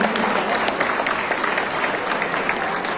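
Dense, sustained applause fills a wedding hall in Talistan village, Ismayilli district, as martyrs' families are honoured. A large crowd claps steadily without a break.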